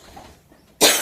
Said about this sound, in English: My cough is so bad now.